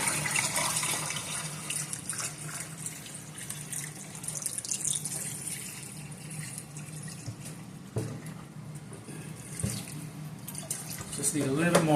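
Water runs steadily into a pressure canner around jars of raw-packed chicken, a continuous tap-like splashing and filling with faint talk in the background.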